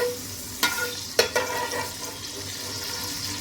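Whole spices dropped into hot oil for chicken pulao, giving a couple of sharp crackling bursts followed by a steady low sizzle that continues alone.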